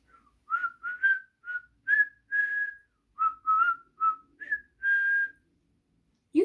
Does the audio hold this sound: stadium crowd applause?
no